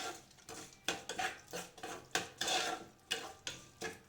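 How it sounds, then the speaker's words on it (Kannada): A utensil stirs tomatoes cooked in oil in a pan, with about eight evenly spaced scraping strokes that rise in crisp bursts over a faint sizzle. The sound is fairly quiet and close, and nobody speaks. "ಈಗ ಇಷ್ಟನ್ನು ಒಂದ್ಸಲಿ ಮಿಕ್ಸ್ ಮಾಡ್ಕೊಳ್ಳಿ."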